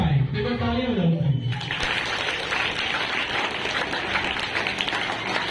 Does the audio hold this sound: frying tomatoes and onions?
no